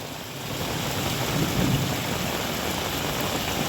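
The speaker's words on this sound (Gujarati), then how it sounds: "વરસાદ ટાવકો આવી ગયો છે" Heavy rain pours down in a dense, steady roar, with a low rumble beneath it and no voices.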